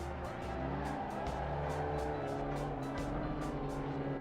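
A KTM GT2 race car in Assetto Corsa EVO at Kyalami is flicked Scandinavian-style into a corner, its engine droning loud and steady with rhythmic rises and falls of revs and faint tyre scrub.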